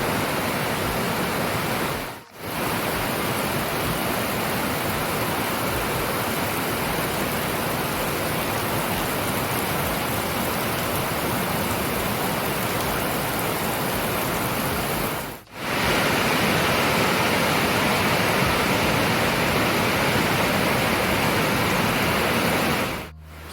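Steady heavy rain pours outdoors as a dense, continuous hiss, loud and unbroken apart from two brief dips.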